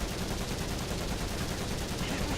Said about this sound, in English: We have got the machine gun on board,